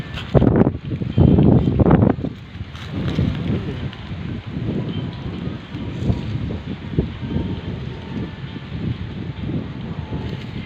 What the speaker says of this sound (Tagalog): Ang lakas ng hangin dito ah.